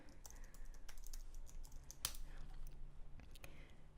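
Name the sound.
typing a domain name on a computer keyboard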